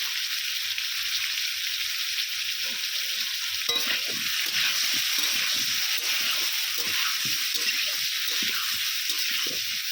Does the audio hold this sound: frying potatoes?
yes